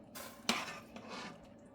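Pasta is stirred into sauce in a pan, giving a short wet scraping clatter with one sharp utensil knock against the metal, close and clear, without talk.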